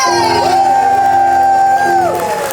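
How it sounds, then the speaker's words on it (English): A theater audience at the Birdcage Theater at Knott's Boysenberry Festival lets out a loud, sustained cheer and whoop for the melodrama hero Ernie Evertrue, many voices rising and falling together over about two seconds. "He gets a cheer every time he appears."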